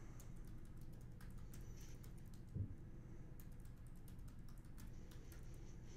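Credentials being typed on a computer keyboard: a quiet, close run of irregular key clicks over a low room hum, with one brief louder thump midway.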